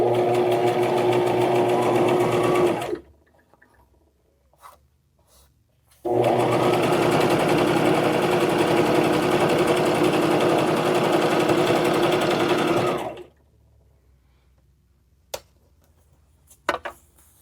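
A Brother XM2701 sewing machine stitching a narrow zigzag, running in two loud, steady, close bursts of fast mechanical whirring and ticking, about three and then seven seconds long, separated and followed by near silence with a few faint clicks.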